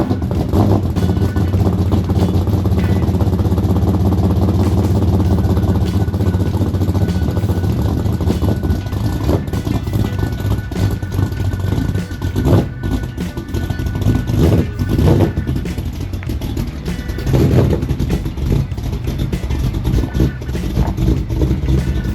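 An auction truck's engine idles steadily as it warms up, a continuous low rumble that runs loud and close throughout, with small shifts in tone and no talk over it.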